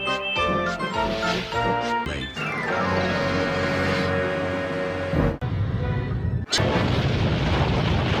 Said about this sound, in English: he banged the trucks hard into the buffers, but the buffers weren't stopped